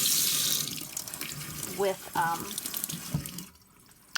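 Tap water streams steadily over an aloe plant to rinse off mealybugs, a continuous splashing flow beneath a brief spoken word, fading out near the end.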